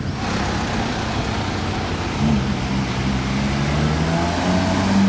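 A Ferrari 812 GTS driving past on a Monaco street: steady engine drone with a low tonal hum that rises in pitch around the midpoint, moderately close, amid street ambience, no talk.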